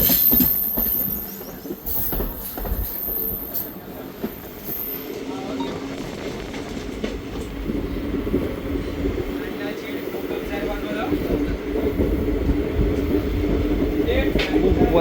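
Konkan Railway passenger train rolling along, heard from inside near an open door, with a steady rumble and rattling wheel noise throughout and voices talking faintly underneath.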